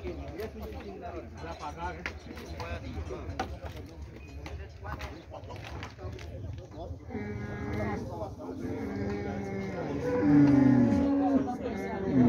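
Cattle at a livestock fair in Tabira, Pernambuco, Brazil, lowing amid a busy crowd, with a louder moo rising near the end over constant chatter and market noise.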